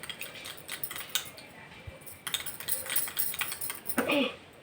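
A spoon works ingredients into aloe vera gel in a small container, giving light, quick clicking and tapping against the sides, soft and close, with a few scraping strokes.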